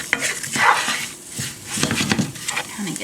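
A utensil stirs ginger and garlic toasting in a pan, with scraping and clinking against the pan that comes in uneven bursts, plus a few brief yelp-like sounds mixed in.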